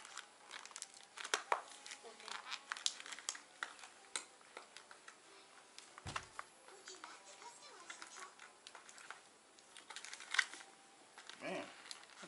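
Packaging for robot spikes being opened and unwrapped, with steady crinkling and tearing of plastic and tape close by over about twelve seconds, punctuated by a few sharper knocks.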